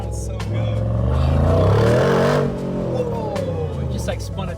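A 2022 Mercedes G63 G Wagon, rebuilt after a wreck, revs hard and accelerates, its engine roar swelling loud and close for a couple of seconds as a tire briefly spins, then settling back, with someone talking over it.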